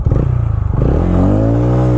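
Motorcycle engine, a KTM Duke 250 or TVS Ronin at a drag race, loud and close, pulsing unevenly before it revs up into a steady rising drone.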